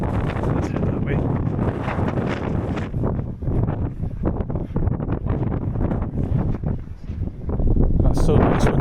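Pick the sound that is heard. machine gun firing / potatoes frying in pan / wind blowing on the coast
wind blowing on the coast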